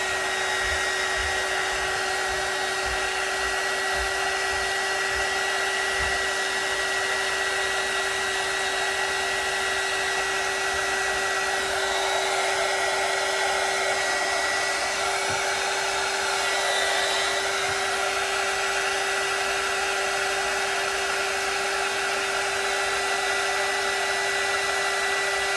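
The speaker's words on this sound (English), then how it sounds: "but it's a heat gun." A heat gun, similar to a hair dryer, blows continuously to loosen price labels, giving a loud, steady whooshing roar with a constant motor whine and no talking over it.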